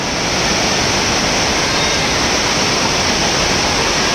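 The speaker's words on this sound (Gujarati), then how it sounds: "જટાશંકર છે ખૂબ જ પાણીની આવક ઉપરથી હોય" Heavy monsoon water pouring down at Jatashankar waterfall in Junagadh, a loud, unbroken roar that stays constant throughout with no voices.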